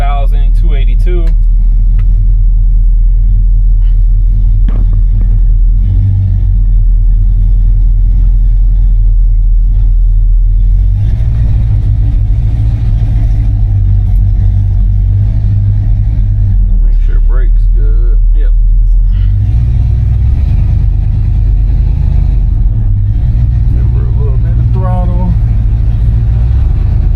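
A 1969 Buick Electra engine with no belt squeal or lifter tick, heard from inside while driving: a loud, steady, low rumble throughout, swelling in a few places as the car accelerates.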